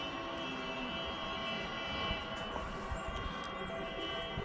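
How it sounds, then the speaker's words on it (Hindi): Sirens sounding across Turkey at 9:05, heard at Prince's Island as a steady, droning wail that holds level for the whole stretch under a dense background rumble. "ये देखें सायरन बज रहे हैं 9:05 पे पूरे तुर्की में ट्रैफिक रुक जाती है"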